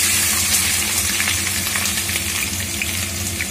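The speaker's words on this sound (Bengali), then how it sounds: "এরপরে আমি জিরি জিরি করে কেটে রাখা পেঁয়াজগুলোকে দিয়ে দেব।" Finely chopped onions hitting hot oil with cardamom, cloves and cinnamon for chicken kosha, a loud close crackling sizzle with bright spitting and a few stirring clinks, no talk.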